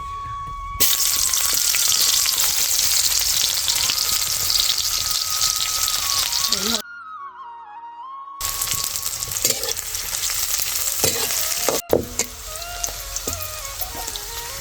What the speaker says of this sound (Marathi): आता तेल तापले कांदा टाकून घेते